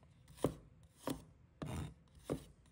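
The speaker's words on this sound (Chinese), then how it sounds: "再准备几个大蒜，把它切成薄片" A knife slicing garlic cloves thinly on a cutting board, four crisp chopping strokes at an even, unhurried pace, close and clear with no voices.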